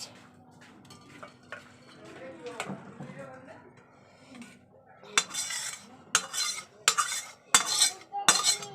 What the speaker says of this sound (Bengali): এইবার আমি ঢেলে দেব হয়ে গেছে আমার নিরামিষ ইঁচড়ের মাছ